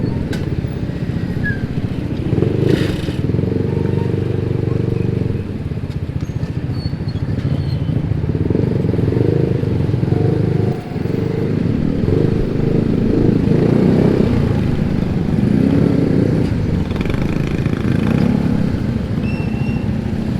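Steady street traffic in the Philippines with motorcycles and cars passing close by, engines droning and rising in a continuous busy rumble, no voices.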